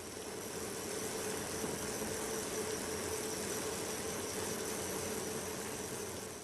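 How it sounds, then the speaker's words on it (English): A racing bike spins on a stationary trainer, giving a steady droning whir with no change in pitch or pace throughout, fairly quiet and continuous with no voices. "He takes it out on his racing bike,"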